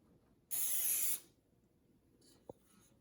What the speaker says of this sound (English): Just spray the sides and a little bit of the bottom.